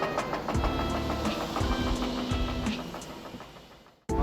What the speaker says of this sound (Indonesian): sekarang kita akan melakukan permesinan untuk menyalakan mesin